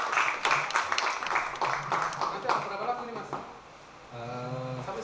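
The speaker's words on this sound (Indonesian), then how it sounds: "Kita kasih aplaus dulu buat teman-teman." Applause at a gathering before a fasting-season event, a burst of hand clapping from a group over voices, fading out as a speaker begins talking.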